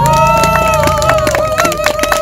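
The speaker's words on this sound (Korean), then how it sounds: "오근호에게 여러분 박수 한번 쳐주십시오" Clapping and crowd noise at a joint outdoor campaign rally near the Blue House for candidates Kim Gyeong-jae and Ok Eun-ho, loud and close, with sharp claps over a sustained voice or chant.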